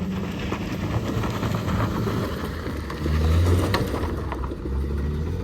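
A car's engine strains and rumbles low and steady as it struggles to climb a steep rocky mountain stretch on the road from Rishikesh toward Chopta, swelling louder for a moment midway.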